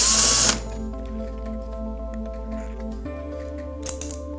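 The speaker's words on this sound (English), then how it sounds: "removing the last 2 screws in the front" Power screwdriver backing out the last two front screws on an EdenPURE heater: a loud burst of whirring for half a second, then a steady low motor hum with faint clicks and small handling knocks.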